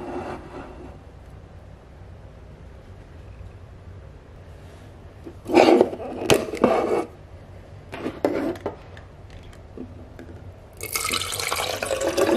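Ice water is poured into a vinyl-wrapped color-changing tumbler, with a few short bursts of clattering ice and splashing liquid between quiet stretches, ending in a longer steady pour.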